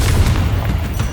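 A single loud, deep booming blast from a Confringo spell in Hogwarts Legacy, short and heavy with a rumbling tail.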